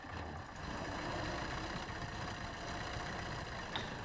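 A modded MTZ 82 tractor engine in the video game SnowRunner runs steadily with a low, rough rumble and a constant mechanical drone, no voices, holding at an even level throughout.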